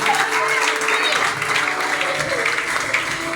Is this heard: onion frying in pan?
no